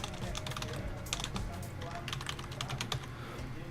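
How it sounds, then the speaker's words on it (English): Rapid typing on a computer keyboard, with quick irregular clicking keystrokes close up and fairly soft, in short bursts with small pauses. "I'm going to type in test description"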